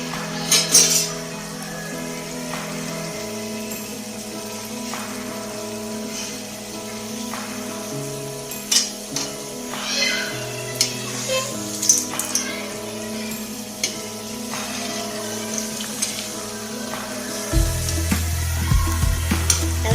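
Farsi puri frying in hot oil, a steady crackling sizzle throughout with occasional metallic clinks of utensils against the pan and a faint background tone.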